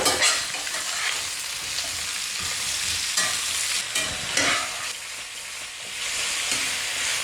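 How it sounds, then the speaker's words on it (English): Sliced zucchini frying in hot oil in a pan, a loud continuous sizzle with periodic stirring scrapes and small surges as the pieces are turned. "now we cook the zucchini for about 3 to 4 minutes before we add the garlic"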